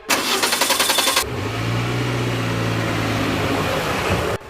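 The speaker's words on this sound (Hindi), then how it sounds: "गाड़ी थोड़ी दूर तक धक्का लगाने से गाड़ी भी स्टार्ट हो गई" A car engine, push-started, catches after a brief burst of rough, rattling cranking, then settles into a steady, close mid-pitched running hum that holds for several seconds before cutting off.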